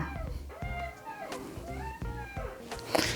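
An IKEA Markus office chair squeaks as it is rotated, giving a string of close, whining tonal squeaks that rise and fall with the motion and repeat every half second or so, with no talking.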